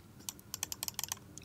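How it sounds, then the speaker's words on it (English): A short burst of key presses on a computer keyboard, about a dozen crisp, quiet clicks in an uneven rhythm, heard alone. "Then hit control, hold down plus again."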